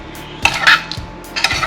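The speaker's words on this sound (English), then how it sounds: "Mix it all in together now." A spoon stirring salad with Greek yogurt in a bowl: close, soft wet squelches and a few light clinks of the spoon against the bowl in quick succession.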